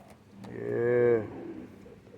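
Pigeons in a loft coo nearby, one soft, rolling throaty call swelling and fading over about a second amid quiet background shuffling.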